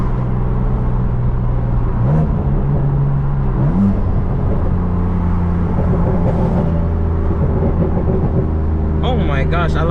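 A manual BMW M3 engine accelerates with a steady, rumbling drone that rises in pitch in short pulls, broken by quick gear shifts, and continues over constant road noise.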